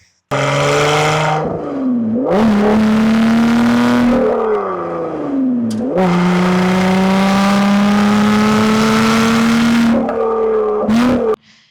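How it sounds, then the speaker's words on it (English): A high-revving Lotus Evora V6 engine screams up and down through the gears, loud and close, with brief dips between long sustained roars. "the best sounding V6 ever made"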